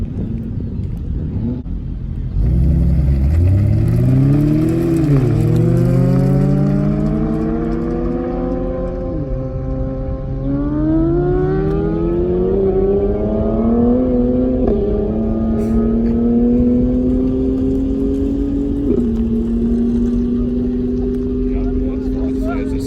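Engines roar as a Yamaha R6 motorcycle races a 975-horsepower GT car, loud rising revs climbing through several gear changes with brief dips between shifts, sustained and close for over twenty seconds.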